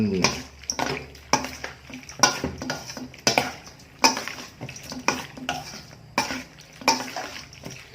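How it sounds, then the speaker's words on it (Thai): Thai pork sausage salad (yum moo yor) being tossed in a bowl with a utensil, a series of rhythmic scraping and clinking strokes, close by, while someone talks over them. "แล้วก็คลุกเคล้าให้เข้ากัน"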